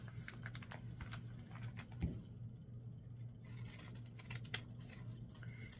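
Scissors cutting through thick paper for quilt paper piecing: a quick series of close, crisp snips and rustles over a low background hum, with no voices.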